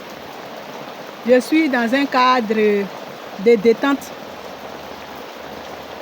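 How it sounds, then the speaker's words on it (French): Steady rain falling outdoors at the edge of a lagoon, a constant hiss of drops that runs under someone speaking in French for several short phrases. "vous voyez bien dans l'image qu'il pleut"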